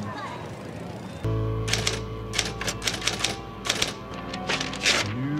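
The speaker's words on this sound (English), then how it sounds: "A typewriter." Rapid clacking of typewriter keys in bursts, close and loud, with a bell-like ding near the end and voices talking over it.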